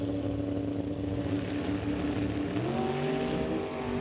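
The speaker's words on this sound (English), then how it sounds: "Once again, breaking the tires loose." A drag racing car, an Opel GT at an NHRA Summit ET bracket race, roars loudly and steadily at the strip as its tires break loose, with the engine note rising near the end and no speech.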